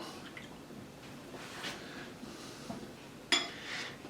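Brown sugar, cayenne, white vinegar and soy sauce being mixed in a bowl, faint wet stirring and swishing with a single sharp utensil clink against the bowl partway through, quiet and close.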